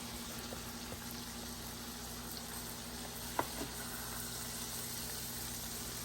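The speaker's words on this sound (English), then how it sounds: "We like our steak well done, so we're gonna let that shimmer a little bit more" A steak cooked well done fries in a pan with a steady, even sizzle throughout, while a couple of faint clicks sound near the middle.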